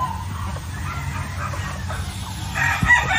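A gamefowl rooster crows at a farm, and the long call rises toward the end over a low background of other birds. A person talks faintly beneath it.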